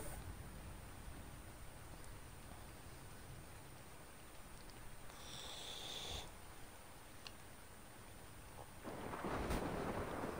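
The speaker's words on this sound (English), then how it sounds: "And it's raining." Rain and thunder in the video game Ark: Survival Evolved, a steady hiss of rainfall with low rumbling thunder rolling underneath and swelling louder near the end, no talking.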